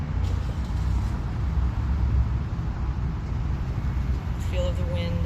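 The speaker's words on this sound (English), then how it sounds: "Hear the sounds of the cars." Steady low roar of cars passing on a nearby road by a soccer field, continuous traffic wash with a brief whine near the end, mid-distance and fairly even in level.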